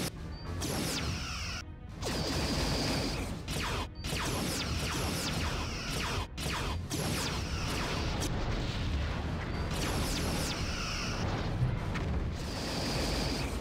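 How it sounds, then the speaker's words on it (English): Quantum torpedo volley explosions in a Star Trek starship battle game, a dense, loud, continuous barrage of booming blasts and crashing impacts with repeated sharp bursts and no talk. "Wow, that is a quantum volley, gosh."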